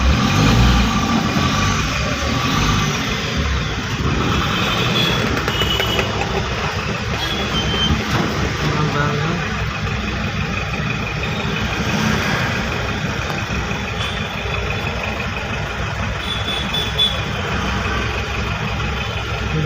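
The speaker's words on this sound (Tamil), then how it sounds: "சரிங்களா, வண்டி ஓட்டிகிட்ருக்கோம்" Vehicle engine hum from inside a moving vehicle in Ambattur traffic, a steady, loud, broadband drone with road rumble that continues without pause, with no talking.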